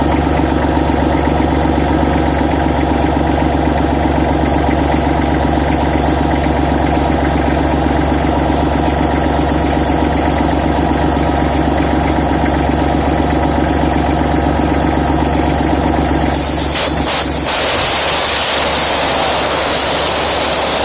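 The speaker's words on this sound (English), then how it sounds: "Gonna let all the air out" Air rushes out of a tractor tire valve stem with the valve core removed, a loud, constant broadband hiss with a running engine hum behind it, the tone shifting abruptly near the end.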